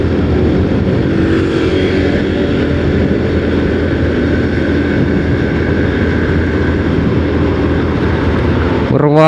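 Loud, continuous motorcycle engine drone close by in Cilacap, Indonesia, steady throughout with traffic rumble, as bikes stream past.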